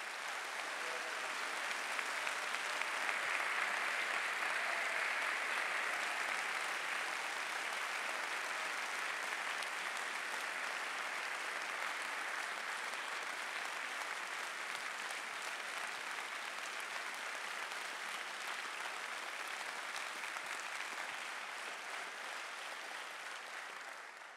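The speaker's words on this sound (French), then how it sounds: "je vous demande d'applaudir chaleureusement" An audience applauds warmly and steadily at the inauguration of a hybrid church organ in Angers, a dense, even wash of clapping lasting over twenty seconds with no voices over it, fading slightly at the end.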